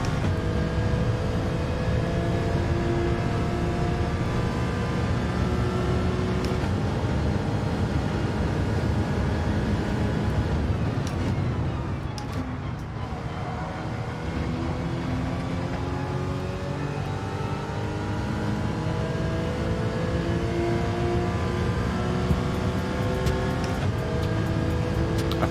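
A Ferrari race car in Gran Turismo 7 drones at high revs, its engine tone climbing steadily through gear changes alongside other cars' engines, with a brief dip in the middle before the revving builds again.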